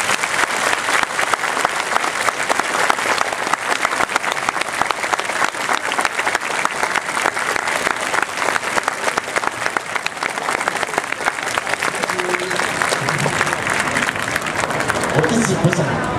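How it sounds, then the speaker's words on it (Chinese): At a drum festival in Taiwan, an audience applauds the Yu Theatre drum troupe with steady, loud, unbroken clapping that runs the full length, dense and even, with some crowd noise mixed in. "再给我们的高人生鼓一次最热情的掌声哦"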